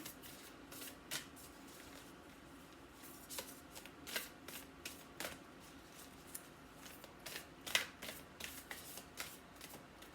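Oracle cards shuffled by hand for a reading, heard as soft, close riffling and flicking in irregular bursts against a quiet background, with no talking.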